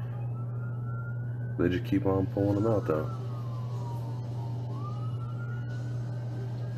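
An ambulance siren wails outside a Hooters restaurant as casualties are carried out. Its tone sweeps and falls at moderate distance over a constant low engine hum, and someone speaks briefly partway through.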